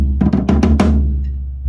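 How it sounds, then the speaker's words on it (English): A 14-inch floor tom from a Matt Palmer North drum kit, struck in a quick run of five deep booming hits that ring out into a low sustained decay, close and loud. "the big honker of the toms, my 14-inch floor tom"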